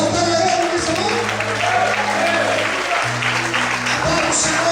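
A church congregation applauds together during an evening sermon, producing a steady wash of clapping, while a sustained tonal drone, like an organ or keyboard, holds beneath it throughout.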